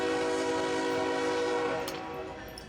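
Rumble of a CSX freight train led by three BNSF locomotives hauling empty grain cars out of Yeoman Yard in Tampa, Florida, loud and steady with a horn tone held throughout, fading slightly toward the end.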